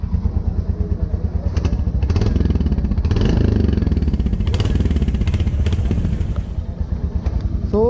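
A Royal Enfield Hunter 350 motorcycle engine thumps with a deep, steady, pulsing beat up close, rising briefly in revs before settling back.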